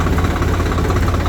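A new-model Swaraj tractor engine, similar to the old 855, runs steadily with a dense, loud low-pitched chug, up close and continuous.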